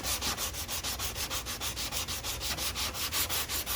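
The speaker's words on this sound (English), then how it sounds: "I want to make sure I keep sanding with this 180" Steady rhythmic scratching of 180-grit sandpaper rubbed back and forth, close and continuous, with regular strokes about four per second and no talking.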